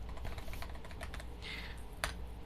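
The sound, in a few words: typing on a computer keyboard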